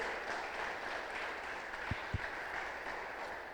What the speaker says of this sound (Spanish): más fuerte el aplauso al Rey de Reyes,